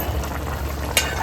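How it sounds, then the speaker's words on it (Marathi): Barramundi fish curry bubbling at a boil in a pot, a soft continuous low simmer with faint gurgles and one brief brighter clink near the end, no voices. "आपला कालवण पण बघताय उकळलाय."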